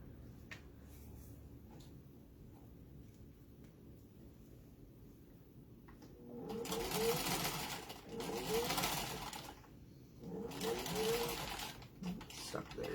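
A sewing machine stitching fabric around corners runs in three loud, close whirring bursts after a quieter stretch, with short pauses between runs as the work is turned.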